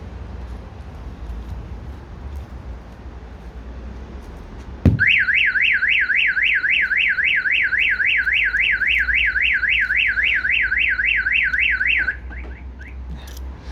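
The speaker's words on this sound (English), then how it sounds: "So if someone applies a force to the glass, the alarm will trigger." A Starline E96v2 alarm fitted to a Vauxhall Movano van goes off after a sharp knock on the glass, a loud, fast-warbling electronic siren that rises and falls evenly for about seven seconds, then cuts out abruptly.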